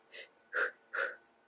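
Three sharp, loud mouth breaths in quick succession, in and out through the mouth while running, each a short gasping rush of air close by.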